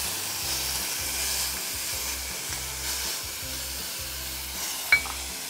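Grated radish and carrot fry in ghee with cumin seeds in a home kitchen, giving a steady close sizzle and hiss under a low rhythmic hum, with one brief sharp tap near the end.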